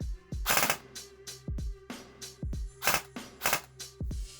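ICS CES-P MP5 airsoft gun running on an 11.1 volt battery, firing a series of sharp close double-tap bursts, roughly six pairs of snappy shots spaced evenly with short gaps between.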